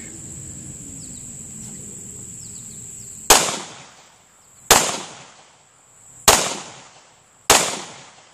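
A Smith & Wesson M&P9c pistol fires Winchester White Box 115 grain full metal jacket rounds outdoors: four loud, sharp shots spaced about a second apart, each with a trailing echo, over a constant background of chirping insects.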